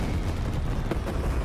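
Airstrike explosions in the video game Wuthering Waves, a dense, continuous rumble of blasts and booms that stays loud and steady throughout, with no voices.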